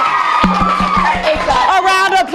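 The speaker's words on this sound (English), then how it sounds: "A round of applause for Shayla." An audience at a school anti-bullying drama performance cheers and whoops with bright, shouting young voices, and a few sharp claps cut through the near, loud crowd noise.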